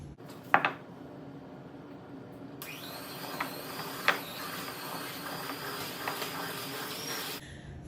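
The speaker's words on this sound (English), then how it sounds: "Hand mixer." An electric hand mixer beats brownie batter until smooth: a few light clinks of utensils, then a steady mechanical whine starts and runs for several seconds before cutting off.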